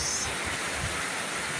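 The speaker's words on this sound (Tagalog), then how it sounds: "Sobrang lakas talaga ng ulan guys." Heavy rain pours down on a windy morning, a dense, constant wash of noise that sounds close and loud, with no voices heard.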